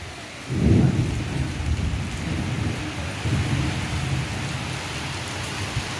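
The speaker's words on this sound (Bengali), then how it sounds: "কি জোরে বৃষ্টি" Heavy rain pours in a steady hiss while a deep thunder rumble swells early on and a second, softer roll follows a few seconds later.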